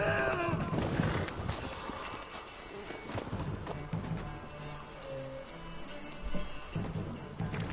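Horse hooves clip-clopping in The Witcher 3, with a whinny and game sounds layered over it, heard fairly quietly and without speech.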